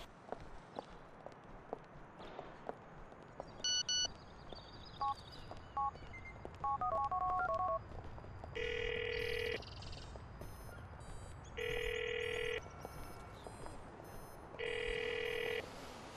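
Phone keypad tones being dialed in GTA IV, followed by a phone ringing in three loud repeated bursts, with footsteps and street ambience from the game underneath.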